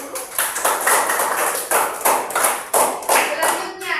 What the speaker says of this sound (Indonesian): Berikan tepuk tangan yang besar untuk kita semua dulu.